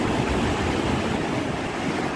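Seawater surges into a rocky gorge at high tide in Guhagar: a loud, continuous close-up roar of rushing, churning surf that never lets up, with no voices.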